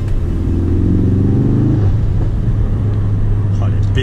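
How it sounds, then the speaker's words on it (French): A Ford Focus RS Mk3 engine rumbling loud and close as the car accelerates and revs, with the note rising before settling into a steady drone, and faint crackles from the exhaust near the end. "Oh, les pétarades, je suis jamais m'en lasser."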